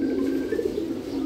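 Pigeons kept for flying coo softly in a low steady murmur, close by and continuous, with no talk over them.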